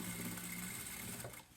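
A sewing machine stitches a stretch seam on trail-running gaiters, a fast, steady mechanical hum that tapers off at the end.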